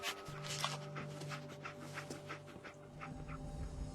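Dogmeat, the dog companion in the video game Fallout 4, pants in quick, rhythmic breaths close by, with soft whimpering and a low steady game-world hum underneath.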